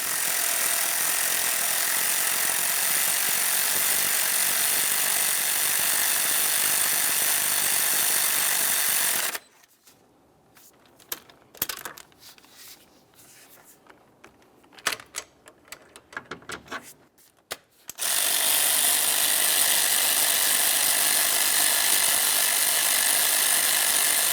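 A ratchet tightening starter bolts on a 2009-2019 Ford Flex, heard as a burst of quick irregular clicks and taps in a quiet gap between stretches of steady loud hiss.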